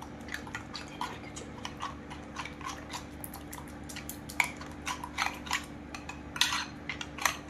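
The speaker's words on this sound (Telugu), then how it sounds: "ఈ ఇంగ్రీడియంట్స్ అన్నిటిని నీట్గా బీట్ చేసేసుకోవాలి." A utensil beating egg, paneer and vegetable pancake batter in a bowl, with quick uneven clinks and taps against the sides over a steady low hum, fairly quiet and close.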